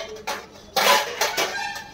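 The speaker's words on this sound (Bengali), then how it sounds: "এই যে ঢাকা দিয়ে দিলাম, গরম হতে থাক" A lid set down on a nonstick pan in a home kitchen: a few light metallic clinks and knocks, close and moderately loud, in short separate hits.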